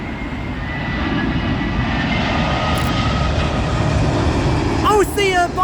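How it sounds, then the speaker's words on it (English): Gulf Air Boeing 787 Dreamliner arriving at Heathrow, a steady broad jet roar holding at a constant level throughout, with a brief voice near the end. "And next into Heathrow will be the Gulf Air 787 Dreamliner."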